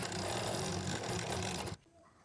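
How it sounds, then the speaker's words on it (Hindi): Sewing machine running steadily while stitching a lined blouse, a loud close continuous whir that stops abruptly near the end, leaving quiet room noise. "तो चलिए मैं इसके ऊपर सिलाई लगाती हूँ।"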